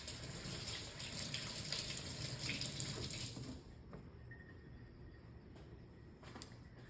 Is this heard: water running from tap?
yes